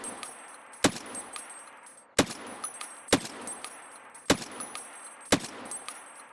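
Gunshots in Escape from Tarkov ring out as five sharp, separate reports spaced about a second apart, each loud and cracking with a short tail, over a quiet background with no talk.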